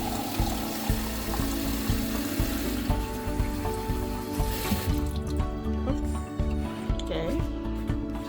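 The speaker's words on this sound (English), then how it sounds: "so we come in with a little bit of water here to have it steam" Water splashes and runs into a cooking pot while egusi soup is being made, a continuous close pour mixed with clatter, with someone talking over it.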